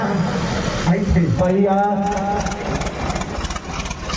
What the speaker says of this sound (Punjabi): ਸਾਡਾ ਬਾਈ ਨੀਸ਼ੂ ਦੇਸ਼ਵਾਲ ਦੇ ਗਰੁੱਪ ਦਾ ਟਰੈਕਟਰ ਹੈ